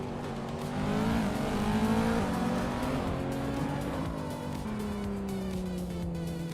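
A 2014 Nissan GT-R Nismo in a racing game drones steadily at high revs, its engine pitch climbing and dipping through gear changes, with other race cars faintly behind.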